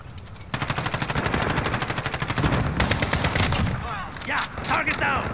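Sustained automatic gunfire in Call of Duty: Modern Warfare, a fast rhythmic rattle of rapid shots that grows louder. Sharper cracks and mechanical clatter follow near the end.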